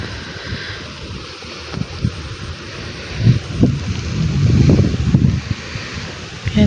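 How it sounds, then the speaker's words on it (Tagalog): Rushing water current during a strong storm, a loud, churning roar of flowing water mixed with heavy wind buffeting the microphone, swelling in the middle. "yung ingay ng tubig tsaka yung agos."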